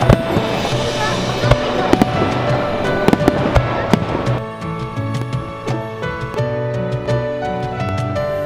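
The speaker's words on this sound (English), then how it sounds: "This Lights and the Sound Lantern Festival approaches its ending with the fireworks." Fireworks bursting during the finale of the Lights and Sounds lantern festival (Andon Matsuri) in Japan, with repeated sharp cracks and booms over a rumbling, crackling wash, loud and fairly close throughout.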